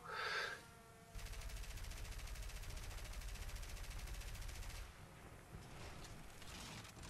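Machine guns on biplanes firing in a dogfight video game, a sustained rapid rattling burst over engine drone, then a break and lighter scattered fire, with no voices.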